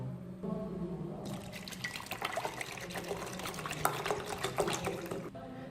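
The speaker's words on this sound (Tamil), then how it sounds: "இதில் இரண்டு கிளாஸ் அளவுக்கு தண்ணியை இதில் நீங்கள் ஊற்றணும்" Water poured from a tap or jug into a pan with cut ginger pieces for a ginger drink, a steady close splashing fill rising and lasting several seconds before stopping.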